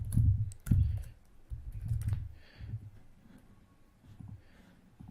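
Keys clatter on a computer keyboard as a message is typed, quick soft clicks in short irregular bursts, close and fairly quiet with brief pauses between runs.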